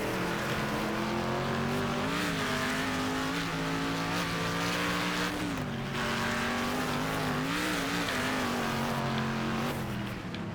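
A race car in the Wreckfest racing video game spins out, its engine whining and shifting pitch over continuous tire noise, loud and sustained throughout.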